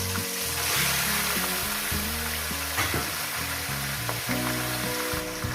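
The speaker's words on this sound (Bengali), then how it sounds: "হাই করে দিয়ে আমি চিকেনটাকে ফ্রাই করবো মিনিমাম সাত মিনিট ধরে" Chicken pieces fry in oil over a high gas flame, producing a loud, continuous close-up sizzle with occasional stirring, while music plays in the background.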